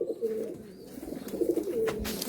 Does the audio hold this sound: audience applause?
no